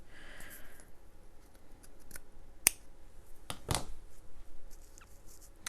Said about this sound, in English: I do want to snip it.